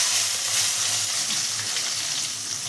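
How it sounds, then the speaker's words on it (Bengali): Long-cut eggplant slices fry in oil in a pan, giving a constant close sizzling hiss with light crackle that holds steady and then stops abruptly. "সেই বেগুনগুলো দিয়ে ভেজে নেব।"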